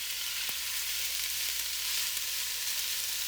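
Carrots and celery sizzle steadily in a pot as a base for Italian wedding soup, a constant broadband frying hiss with a faint stir or tap near the start, no talking.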